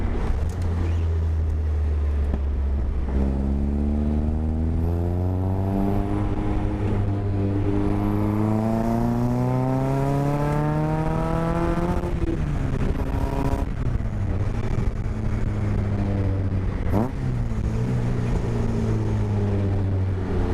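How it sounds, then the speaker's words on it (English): An MK Sportscars Striker is driven while its intakes, fitted with an exposed sausage-shaped filter, suck air. The steady engine drone rises and falls in pitch through gear changes, close and continuous, with no talk. "Can hear the sucking of the intakes with that sausage filter on the outside."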